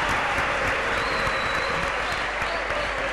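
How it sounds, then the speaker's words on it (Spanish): A whole stadium crowd applauds at a basketball derby between Huracán and Central, a dense, continuous wash of clapping and crowd noise heard from a distance without a break. "con el aplauso de todo el estadio"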